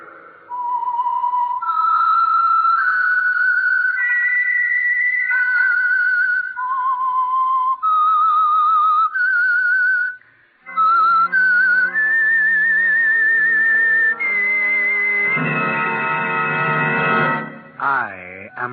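A person whistles the slow theme tune of the vintage radio show The Whistler, held, clear notes stepping up and down, ending in a rising and falling glide.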